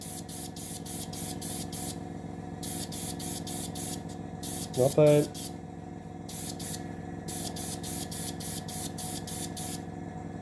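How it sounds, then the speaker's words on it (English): Short bursts of an airbrush or spray can misting paint onto a taped line on a model of a Russian Project 955 Dolgoruky submarine, repeated hissing sprays with pauses, and someone speaking briefly between bursts. "And again, I'm not spraying into the line, I'm spraying onto the line."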